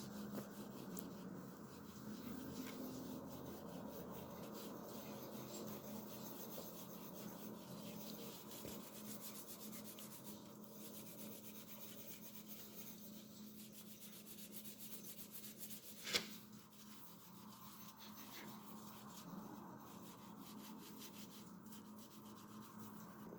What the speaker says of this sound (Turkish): Zımpara kağıdınızı katlayarak araları tertemiz yapabilirsiniz.